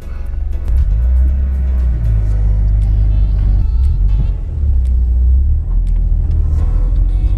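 Toyota Supra inline-six rumbling steadily from inside the car while driving, a deep continuous engine drone with shifting pitch and a brief dip midway, loud and close.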